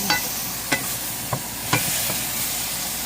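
Mushrooms with a splash of wine sizzle in a pan while a utensil stirs them, four sharp scraping strokes cutting through a steady frying hiss.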